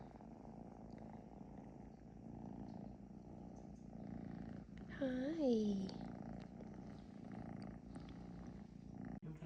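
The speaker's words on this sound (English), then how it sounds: "There's so much purring." Steady close purring from a cat runs throughout, with someone speaking softly over it and a brief meow-like vocal rise midway.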